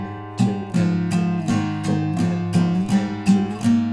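Electric guitar plays the intro riff of a song: a steady, evenly spaced run of picked notes repeating about three times a second, close and clear with no voices.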